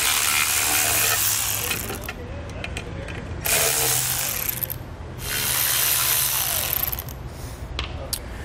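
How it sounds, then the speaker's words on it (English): A tool removes the 5/16 inch set screws from the cap of a Bulldog square trailer jack, making loud, continuous ratcheting and whirring mechanical noise in long bursts with brief pauses between them. "So we've got a 5/16 inch set screw here on each side."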